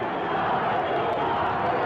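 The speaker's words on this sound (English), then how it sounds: "The crowd chanting, Harley, Harley." A wrestling arena crowd roars and chants as a dense, continuous wall of voices, loud and even throughout.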